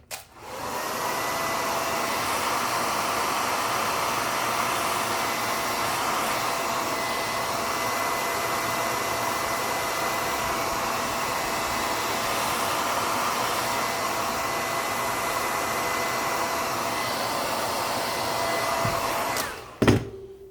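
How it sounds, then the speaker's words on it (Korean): A hair dryer on its highest, hottest setting, used on dyed leather, blows in a loud, steady roar for about twenty seconds before clicking off. "제가 지금 드라이를 조금 시끄러워도 센 바람으로, 제일 뜨거운 바람으로 하고 있거든요"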